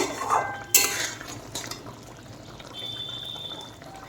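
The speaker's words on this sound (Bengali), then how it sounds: "পটল দিয়ে দেওয়ার পরে একটু নেড়ে চেড়ে নেব।" A utensil clinks and scrapes against a pan while fried pointed gourd (parwal) is stirred into a yogurt curry, with a sharp clatter early on and soft scraping after.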